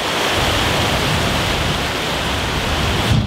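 A fast, swollen river rushes past close by in a steady, loud broadband roar with no letup, heard near a military training ground.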